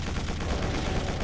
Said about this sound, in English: they're probably still gonna snipe me from there